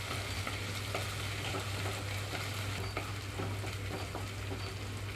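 Ginger garlic paste fries with onions in a pan, giving a loud, steady, close sizzle with scattered crackles and scraping from stirring throughout.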